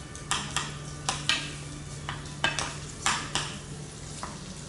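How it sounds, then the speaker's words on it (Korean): Spam is stir-fried with butter in a pan, with a low sizzle under repeated spatula scrapes and clacks against the pan at an irregular rhythm, close and clear. "스팸을 볶아줘요"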